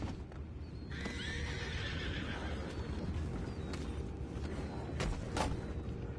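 A horse whinnies loudly near the start amid a rumbling, busy background with occasional hoof clops and distant knocks, in the video game Red Dead Redemption 2.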